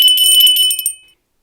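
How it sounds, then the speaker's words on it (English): A small silver bell tinkles loudly in quick repeated shakes, bright and close, then rings out and fades to silence within a second. "suddenly heard a bell tinkle loudly"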